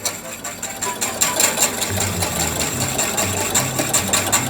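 A noisy kitchen stove heating milk gives a steady mechanical rattling buzz with a rapid ticking pulse, heard close and continuous throughout, with faint background voice.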